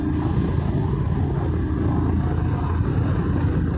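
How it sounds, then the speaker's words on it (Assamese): A motorbike climbs uphill in third gear on a mountain road toward Dirang and Tawang, its engine a loud, steady, close drone mixed with wind rush. "3 নম্বৰ গিয়াৰত কি বঢ়িয়া উঠি আছে বে বাইক"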